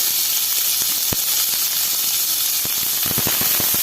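Chopped onion hits a hot pan with ginger-garlic paste for kothu chapathi, a loud close hiss and sizzle with sharp crackles and spatters that pick up toward the end.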